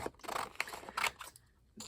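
Scissors cut down printed paper for a crafting project, making several close, crisp snips in quick succession before a brief pause, with no one talking.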